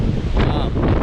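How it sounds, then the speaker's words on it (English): Strong wind buffets an outdoor microphone on a farm, a steady loud low rumble with gusty swells throughout the short stretch. "it is pretty windy"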